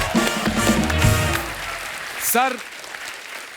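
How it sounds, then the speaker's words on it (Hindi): Studio audience applause on a Hindi comedy talk show, a loud steady clapping wash through the first half that tapers off, with a voice speaking over it and a brief tonal flourish near the end. "गुरुदेव की जोरदार तालियां इनके लिए।"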